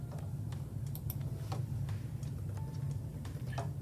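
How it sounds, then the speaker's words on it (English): Search terms being typed on a computer keyboard: quiet, irregular key clicks in short bursts, close by over a steady low hum, with no speech. "So you'll notice that as I'm typing these in, a little box at the bottom comes up that says exact."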